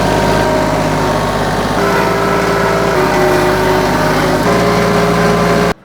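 A warmed-up TYM 2515H compact tractor engine idles steadily, running loud and close with a constant low rumble and no talking.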